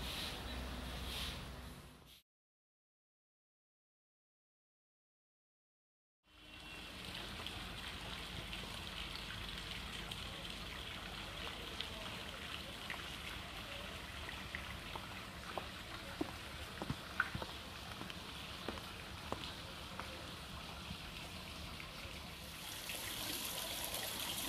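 Gentle water trickles steadily in a hotel garden water feature at the Sultanahmet Palace Hotel in Istanbul's old town, a soft continuous patter with faint drips, interrupted by a few seconds of silence near the start.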